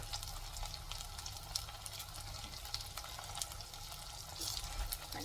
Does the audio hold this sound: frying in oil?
yes